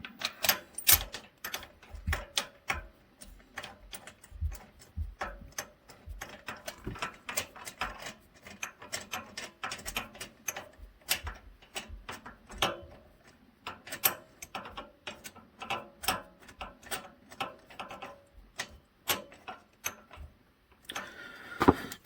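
Spark plugs being threaded in and tightened by hand on a Kawasaki KRX 1000, heard as close, quiet clicking and ratcheting ticks in an irregular, steady rhythm with no talk.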